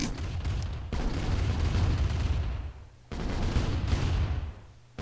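Gunfire from the Command & Conquer Remastered video game comes as two long, loud rumbling bursts of booming shots, each swelling and then fading away.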